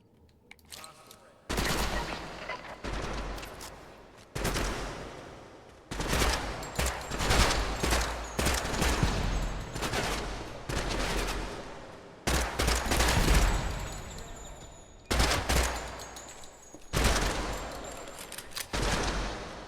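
Bursts of video game gunfire in a zombie-horde setting, loud repeated volleys and rapid fire coming in clusters separated by brief lulls, with a voice talking now and then over the shooting.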